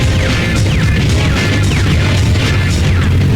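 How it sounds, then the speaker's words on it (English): Stinger missile launch in James Bond 007: Racing, loud and sustained: a steady roaring rush with repeated whooshing sweeps and bursts across the whole stretch, no voices. "Lock on your target with the Stinger missile."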